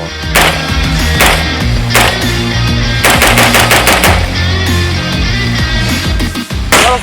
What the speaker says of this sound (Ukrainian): Робимо три постріли по одному пострілу